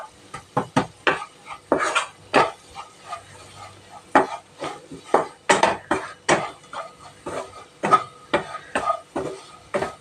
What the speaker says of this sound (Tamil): சும்மா ஒரு கொஞ்ச நேரம் வதக்கினோம்னா போதும்.